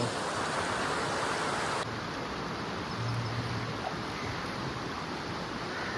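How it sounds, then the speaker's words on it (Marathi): Steady, full rush of falling water, close and continuous, with no voices over it. "हा बघा फॉल आहे इकडनं असा."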